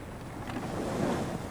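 Ocean waves surge and wash steadily at sea, a broad, constant roar with a swelling crest near the middle and wind noise over it.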